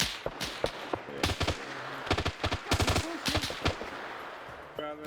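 Gunfire during an Arma military operation: scattered single shots and short bursts crack out at varying distances, some close and sharp, others farther off, with brief gaps between volleys.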